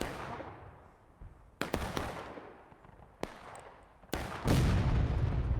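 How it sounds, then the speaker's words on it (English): Booming cannon shots from a Civil War battle game ring out one after another, four or five sharp reports with long fading echoes, ending in a louder rumbling blast. "Seems like he was letting the volunteer fire the cannon."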